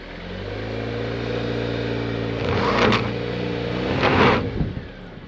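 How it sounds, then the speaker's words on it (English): A 2023 Jeep Compass with a rear wheel spinning during a traction test, heard as a steady engine drone with two brief surges of whirring tire noise near the end. "It's got spinning wheel here."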